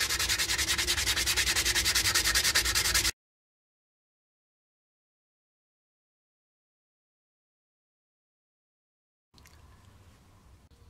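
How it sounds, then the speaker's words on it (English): Hand sanding rasps in quick back-and-forth strokes across a carved wooden Bufflehead duck decoy, close and steady for about three seconds, then a long silence and a quieter stretch of faint scraping. "And always some hand sanding."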